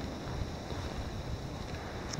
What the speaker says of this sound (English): big old gust of wind behind.